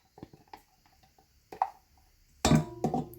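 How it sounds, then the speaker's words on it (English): A spoonula scraping melted butter out into a mixing bowl while baking fudge brownies, several soft scrapes and taps against the bowl, ending in two louder clattering strokes. "Don't forget to use your spoonula to get out all the extra butter."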